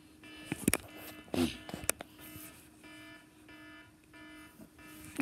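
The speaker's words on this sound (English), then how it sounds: "I hear an alarm." An alarm goes off inside a house on the main floor, a faint repeating electronic beeping pattern in short bursts amid soft background noises.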